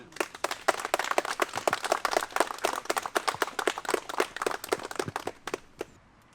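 Crowd applause outdoors at the opening ceremony of an inclusive sports ground in Nadvirna, Ukraine: dense, steady clapping from many hands for about six seconds, fading out at the end, with no talk over it.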